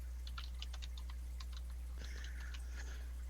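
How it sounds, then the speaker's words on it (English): Rapid irregular keyboard typing clicks, close and fairly quiet, running through the whole stretch over a steady low hum, with no voices. "Someone's typing"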